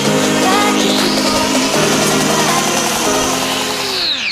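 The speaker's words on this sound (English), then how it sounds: "So we've removed the bulk of the horn using the grinder" An angle grinder trims the horn of a cattle hoof, a loud, close, continuous whine with a slight dip in pitch as it bites into the horn, then winding down at the end.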